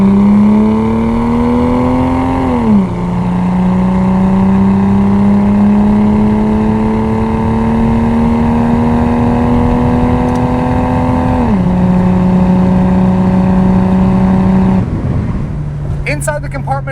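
A 1983 Datsun 280ZX with 77K miles drones steadily on a test drive, its engine note climbing gradually as it winds up, with abrupt pitch drops where the gears change, loud and continuous throughout.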